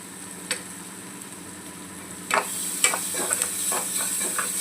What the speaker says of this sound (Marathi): व्यवस्थित असं हलवून घेऊ।